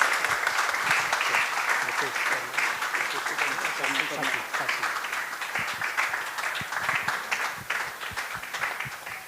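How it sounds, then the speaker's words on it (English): A crowd applauds at the grand opening of a Hindu temple and community centre, a sustained, even patter of many hands throughout, with voices mixed in underneath. "a big round of applause to Ankit"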